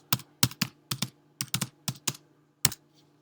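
Typing on a computer keyboard: about a dozen crisp, close key clicks in an uneven rhythm, some in quick pairs, alone without talk.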